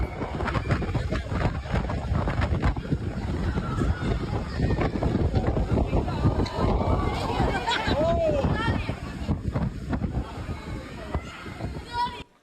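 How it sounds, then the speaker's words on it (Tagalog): Strong wind from Typhoon Wipha roars continuously during a storm in the Philippines, buffeting the microphone with dense rumbling gusts, while a person talks underneath for most of the stretch. "Nakakatakot din ang lakas ng dalang hangin ng Bagyong Wifa."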